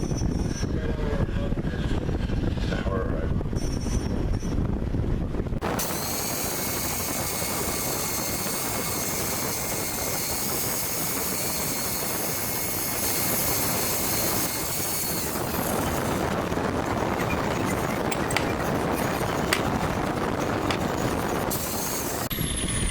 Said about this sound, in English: We're just going to clean them with a wire wheel and an angle grinder